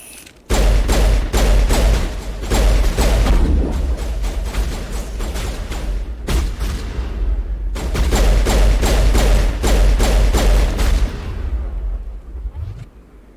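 Sustained heavy gunfire from a Mass Effect shootout, dense rapid bursts with booming impacts running almost without pause, broken by two brief lulls before fading out at the end.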